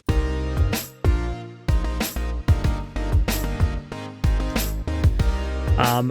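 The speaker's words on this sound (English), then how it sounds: "this is just a little loop I created." A looping Arturia Pigments 3 synthesizer preset phrase of bright, plucky chords and bass notes repeats in a steady rhythm, with a warbling flourish at the end.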